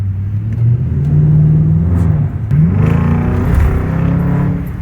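A BMW V8 engine revs up and accelerates hard at night, a deep throaty roar rising in pitch, briefly dipping as a gear changes, then climbing again.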